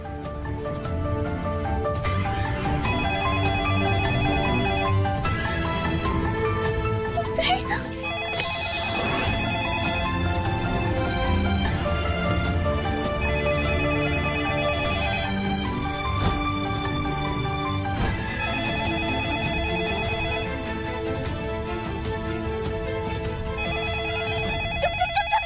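A mobile phone ringing during a call in a Hindi TV drama scene, a repeating electronic ringtone pattern continuing for the whole stretch, steady and prominent over a music bed.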